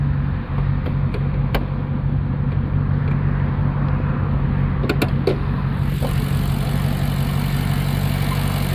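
The Ferrari-based 4.7 engine of a 2010 Maserati GranTurismo convertible runs with a steady low idle hum, broken by a few sharp clicks and knocks partway through.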